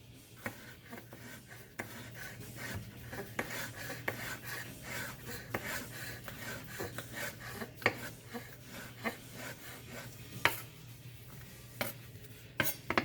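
A knife mincing jalapeno peppers on a cutting board, a soft continuous rasping and scraping with irregular light taps and a few sharper knocks, close and quiet, no talk.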